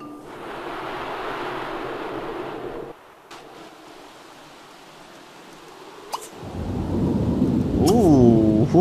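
Thunderstorm in The Sims 3 rolls as a broad rumbling wash of rain and thunder, fading into a quiet stretch before a louder deep rumble builds again near the end, with a brief tonal sweep over it.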